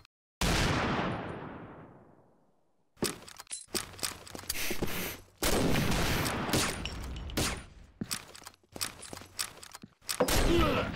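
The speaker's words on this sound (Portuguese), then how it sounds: "o cara atirou lá de cima" Bursts of gunfire from the online shooter Combat Arms during a ranked match: a loud opening shot with a long decaying echo, then rapid irregular volleys and single cracks near and far, with no talk over them.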